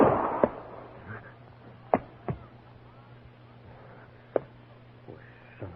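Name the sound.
gunshot sound effect in a radio drama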